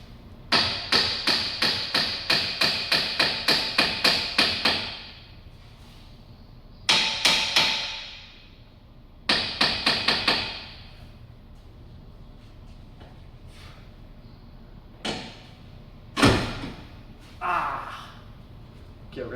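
A hammer knocks the front control arm of a Mercedes W204 C63 AMG into position: a rapid run of about a dozen sharp metallic blows, then shorter clusters and a few isolated strikes, close and loud.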